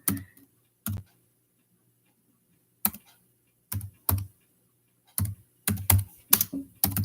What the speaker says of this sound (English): just typing up the transcript.